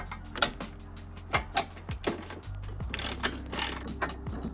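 A ratchet wrench loosens 16 mm bolts on a car's front end, with bursts of close, rapid clicking separated by short pauses and occasional metallic knocks.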